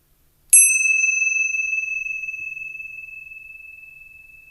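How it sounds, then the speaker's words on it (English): A single meditation bell struck once, ringing with a bright clear tone that sustains and slowly fades over several seconds in an otherwise quiet room. "as we listen to the sound of the bell here"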